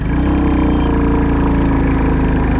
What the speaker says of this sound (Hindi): थर्ड गियर में भी बाइक हमारी चालू हो गई।